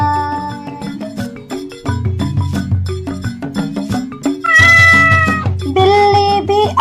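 A cat meows several times in a sing-song, musical manner in a children's nursery rhyme over a bouncy rhythmic backing, the meows rising and stretching out toward the end.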